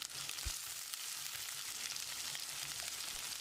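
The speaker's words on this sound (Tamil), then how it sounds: "நறுக்கின சின்ன வெங்காயம், 1/4 டீஸ்பூன் பெருங்காயத்தூளையும் சேர்த்து வதக்கிடலாம்." Steady sizzling of chopped small onions with asafoetida frying in hot oil, a continuous crackling hiss with no voices.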